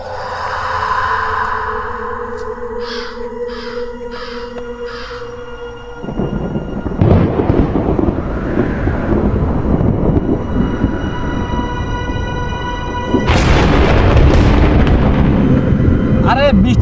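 Rolling thunder before a rainstorm in a rural Bengali horror drama scene. A tonal musical opening gives way to a loud, sustained broadband rumble that swells again near the end, with crow-like caws mixed in.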